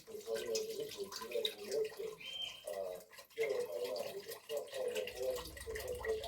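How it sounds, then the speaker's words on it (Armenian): Cold water pours and splashes into a pot over washed meat for a yellow pea soup, a continuous gushing stream with a short break midway. "Լվանալուց հետո մսի վրա լցնում եմ սառը ջուր"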